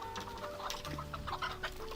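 Several rescued egg-farm hens cluck softly and intermittently, a low chorus of short clucks close by with faint background noise.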